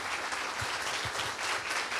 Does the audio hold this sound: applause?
yes